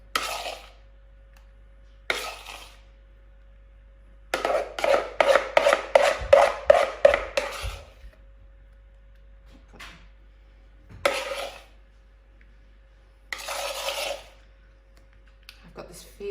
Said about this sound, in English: I'm just going to get a spoon to grab the last little bit.